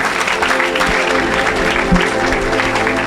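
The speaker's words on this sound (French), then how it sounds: "Acclamez pour Jésus pour lui." A church congregation claps and cheers during a Christian worship service, producing dense, close applause with crowd noise that fills the short moment and carries several sharp thumps.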